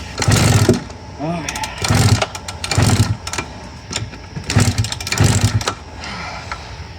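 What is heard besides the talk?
1999 Suzuki RM 125 motorcycle engine starting and running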